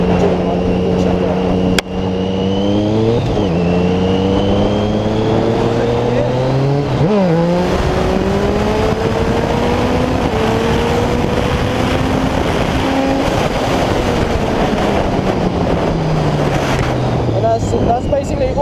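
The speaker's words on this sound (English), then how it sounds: "I'll do a second gear clutch up, and then I'll switch into third from doing my clutch up." Triumph Street Triple motorcycle (2008–2011) revving hard in second gear for a clutch-up wheelie, then shifting into third, its engine note rising in steady sweeps with a brief dip at each gear change, loud and close.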